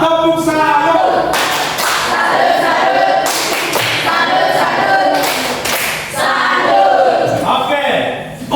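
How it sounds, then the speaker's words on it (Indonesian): A class claps together in the "tepuk salut" routine: a series of loud, rhythmic group claps alongside chanting voices, with short gaps between the bursts. "Semua sama, tepuk salut."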